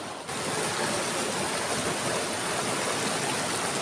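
The Cimanuk river flowing through the Bayongbong area, a steady, dense rush of water that stays loud and unbroken throughout, close to the microphone.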